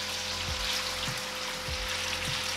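Al dente pasta fries in rendered guanciale fat for carbonara, a close and steady sizzle broken by soft, regular low thumps about every half second.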